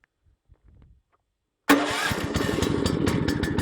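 A woodchipper's small engine catches abruptly after a few faint handling sounds, then settles into a loud, steady running drone close by.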